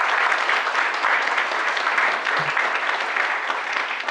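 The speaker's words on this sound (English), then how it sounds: "So congratulations, and a round of applause for you all." Steady, dense applause from an audience at an arts awards ceremony for young recipients, even clapping filling the room for several seconds with no talk over it.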